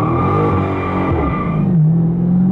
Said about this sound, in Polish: A teraz start z wyłączoną trakcją.